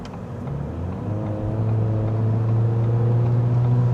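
A 2019 Ford Fiesta ST-Line accelerates out of a corner onto a highway, its engine drone rising steadily in pitch and loudness, heard from inside the car with no talk.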